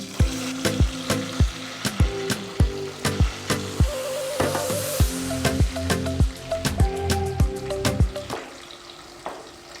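Onions frying in a pan as the base of a tomato sauce, with a steady sizzle broken by repeated sharp scraping and tapping as a utensil stirs against the pan, close and fairly loud.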